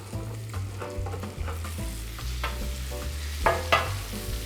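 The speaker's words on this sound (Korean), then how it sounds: "버터가 반 정도 녹았을 때쯤 양파부터 한번 볶아주겠습니다." Onions sautéing in a pan of half-melted butter over low heat give a steady close sizzle and frying crackle, with stirring scrapes and a few louder pops near the end.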